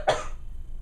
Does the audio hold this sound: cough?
yes